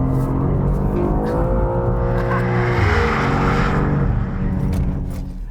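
A BMW M2 with the S58 engine drives hard, its engine note loud and close, rising steadily through the revs, holding at a high pitch, then dropping as it backs off, with no voices.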